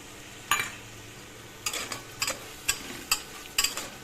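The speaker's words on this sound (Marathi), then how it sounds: "त्याला छान हलवून घ्यायचं" A spoon stirs fried paneer into oily, spiced masala in a pan, with soft sizzling under a series of sharp scraping and clacking strokes against the pan, about six distinct stirs, no talking.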